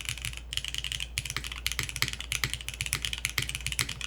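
A Finn 60XT mechanical keyboard is typed on at a brisk, uneven pace, with crisp clacking keystrokes close up and deeper spacebar thocks, with no talking.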